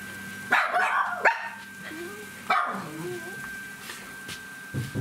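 Small dogs bark near a Christmas tree at home, a few sharp yips and barks in quick bursts with a whine between, close by and fairly loud.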